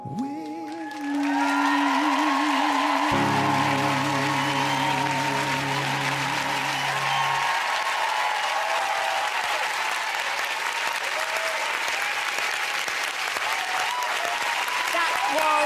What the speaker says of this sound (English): The crowd are going nuts.